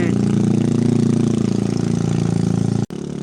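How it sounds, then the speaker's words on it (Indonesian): An automatic scooter's engine labours loudly and steadily up a very steep, rainy road, its continuous drone held close with only a brief dropout near the end. "Motor metik mulai kewalahan"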